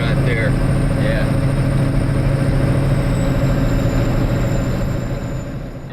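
A semi truck's engine rumbles loudly and steadily from inside the cab during a trucking chat, a constant low drone with a faint high whine and a few brief squeaks, while voices talk over it.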